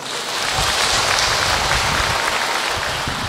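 An audience applauds a monk at a Buddhist talk, a dense, steady wash of clapping that holds at even loudness throughout.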